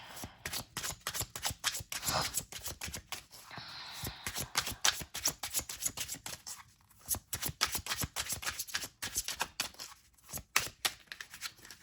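A deck of cards is shuffled for a reading in rapid, repeated riffling bursts, a dense flutter of card flicks with brief pauses between shuffles, close and moderately quiet, with no talk.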